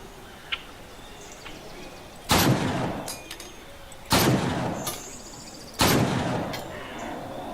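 Three loud, sharp gunshots from the zombie survival video game State of Decay, spaced about two seconds apart, each with a short decaying tail over a low background of ambient game noise.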